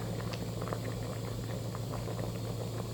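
A pot of spicy coconut milk curry with straw mushrooms and pork belly boils hard, giving a dense, continuous bubbling and popping close by with no voices over it.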